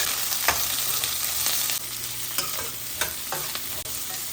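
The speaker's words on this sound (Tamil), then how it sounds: "இப்போ நல்லா ஃப்ரை ஆகட்டும்." Onion, garlic and curry leaves fry in a pan for ridge gourd chutney, giving a loud, continuous sizzle broken by scattered scraping clicks of stirring.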